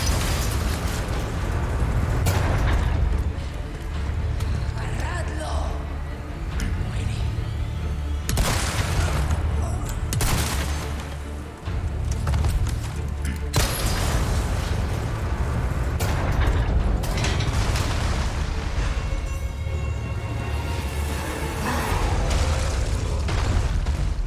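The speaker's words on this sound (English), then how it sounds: "wait for a clear chance to aim the cannon at the El Gigante, then destroy both him and then the door right after" Cannon shots at the giant El Gigante boss in Resident Evil 4 Remake, several loud booming blasts spaced several seconds apart over a continuous rumbling roar of game sound and music.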